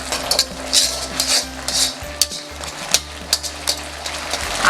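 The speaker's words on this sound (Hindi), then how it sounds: "और इसे मिक्स कर लेंगे।" Cauliflower fritters stirred into gravy in a pan for street-style gobi Manchurian, a spoon scraping and clinking against the pan in steady repeated strokes with a light sizzle underneath, close and fairly loud.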